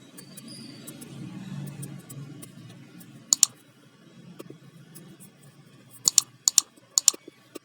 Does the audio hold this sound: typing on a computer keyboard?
yes